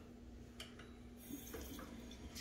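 Tap water runs into a sink while a face is wetted during a facial cleansing routine, a soft, steady trickle with a few brief splashes, fairly quiet and heard alone without talk.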